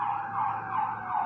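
An ambulance siren wails in a steady rising and falling cycle, fairly loud and continuous, with faint road noise underneath.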